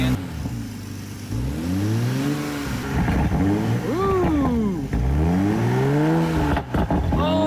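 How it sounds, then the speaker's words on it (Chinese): A 2020 Toyota Supra, repaired after a serious crash, starts up and revs in repeated rising and falling bursts, loud and close in a workshop, with an irregular extra noise in the roar and brief talk between revs. "随着小哥点火，车辆发动机瞬间爆发强有力的轰鸣。"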